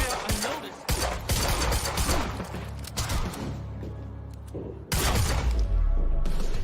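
Gunfire from a firefight in the video game Quantum Break: dense, repeated shots and impacts over a loud, constant game soundscape, with a heavy burst near the end.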